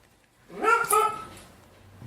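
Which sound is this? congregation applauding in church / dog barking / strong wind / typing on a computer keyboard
dog barking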